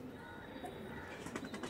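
A Kaldama pigeon coos softly in a pigeon loft, with low, murmuring calls and a few faint chirps and wing rustles, quiet and near.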